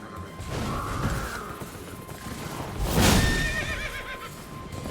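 A horse neighs loudly in the Elden Ring video game, a long whinny near the start and a stronger, wavering call around the middle, over game ambience with faint hoof clatter and no talk.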